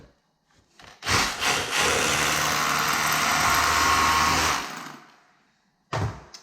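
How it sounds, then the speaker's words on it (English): A power drill bores a hole during a toilet installation, making one loud, close whirring burst of about three and a half seconds, framed by a few short knocks before and after. "All right, so I just drilled the last hole."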